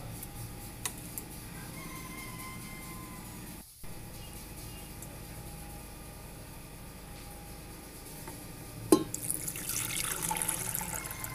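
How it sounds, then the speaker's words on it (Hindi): Water pours into mutton keema cooking in a pan, a steady trickling stream running through most of the stretch with a brief gap, then a louder splash near the end; no one speaks. "अब इसमें थोड़ा सा पानी शामिल कर दिया है"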